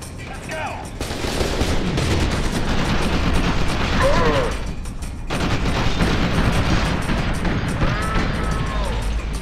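Rapid automatic gunfire rattles almost without pause in the F.E.A.R. 2 shooter, with a heavy grenade blast swelling in the middle before the firing resumes, loud and close amid the combat din.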